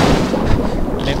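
Rapid-fire explosions in the Feeding Frenzy fish game, where fish hit bombs, form a dense, continuous rumbling barrage of booms with no pause.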